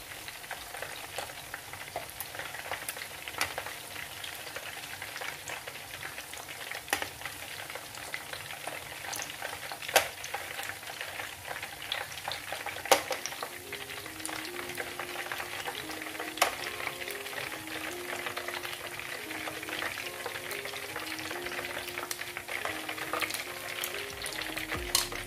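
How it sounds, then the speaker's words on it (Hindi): Mutton koftas fry in hot oil with a steady, even crackle and hiss that continues throughout, and a faint melodic tone runs in the background during the second half. "ये देखें कोफ्ते फ्राई हो चुके हैं।"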